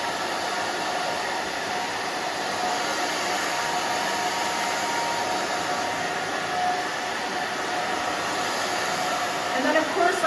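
A hair dryer blows steadily while short fringed hair is dried, a continuous close whooshing hiss that fills the whole stretch with only slight shifts in level.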